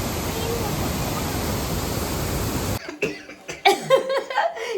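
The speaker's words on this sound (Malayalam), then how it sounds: "ഇന്നത്തെ വിശേഷങ്ങൾ ഒരു ചുമയോടുകൂടി ആരംഭിക്കുന്നു" A steady roar of rushing water at the Ripple waterfalls in Munnar cuts off abruptly, and then a person gives a few short, close coughs in the quiet that follows.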